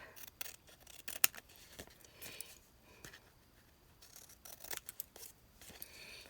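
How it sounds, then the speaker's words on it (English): Scissors trim the edge of paper from an envelope remnant in a series of soft, close snips and crisp cuts at irregular intervals, quiet overall, with no speech. "now I'm going to come back and I'm going to trim this off"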